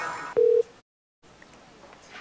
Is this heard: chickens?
no